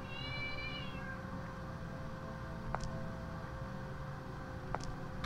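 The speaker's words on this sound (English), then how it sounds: "That was a cat." A single cat meow in a video game opens the clip, fairly clear and mid-distance, followed by faint background hiss and a couple of small clicks.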